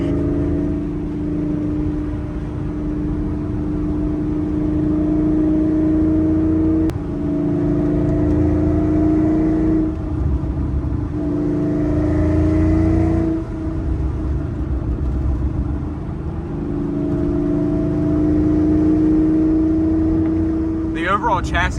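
A procharged Ford Cobra's engine hums and revs while driving, climbing in pitch through gears with a supercharger whine and briefly dropping between shifts, loud and close inside the car with occasional talk.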